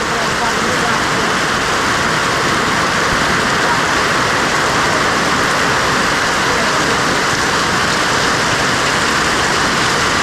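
Heavy rain pours down in a dense, constant hiss, loud and unbroken throughout.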